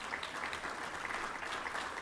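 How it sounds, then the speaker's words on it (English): Steady applause from a crowd at a journalism awards ceremony, dense clapping filling the room at an even level throughout, with no voices standing out. "join me in a round of applause for all of the judges"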